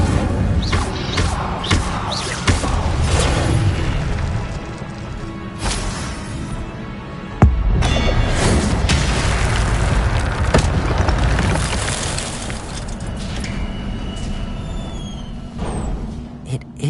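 A fire spell cast in a video game erupts with a heavy boom and sustained roaring crackle, a sharp thud near the middle, then fades out, with no talk over it.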